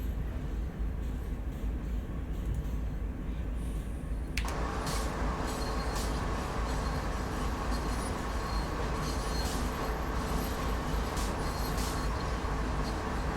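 Heavy American freight train rumbling in Train Sim World 2020, a steady loud low roar of wagons and wheels that swells sharply about four seconds in with brighter rattling and hiss continuing to the end.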